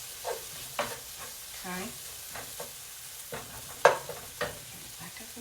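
Garlic sautéing in a pan for smothered pork chops, a low steady sizzle with scattered scrapes and clinks of a spoon stirring, one sharper knock near the end; a voice speaks briefly.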